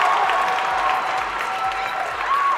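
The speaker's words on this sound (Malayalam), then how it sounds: "ട്രിവാൻഡ്രത്തിൻ്റെ ഒരു ഉശിരൻ കയ്യടി കൊടുക്കൂ four one and only Jayaram." A crowd at Lulu Mall in Thiruvananthapuram applauds a film success celebration, dense continuous clapping filling the space, with a sustained tone and faint voices mixed in.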